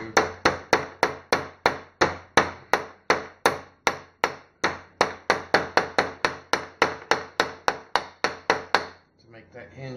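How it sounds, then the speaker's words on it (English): Rapid, sharp hammer strikes flattening a hinge flush on a handmade Transformers Starscream costume, about thirty evenly paced close blows that stop near the end, followed by a faint trailing rattle. "we can use a hammer"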